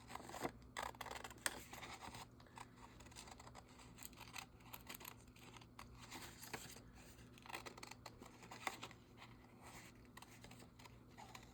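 Scissors cut out a small paper shape, giving quiet, repeated close-up snips and rustles over a faint steady background hum, with no talking.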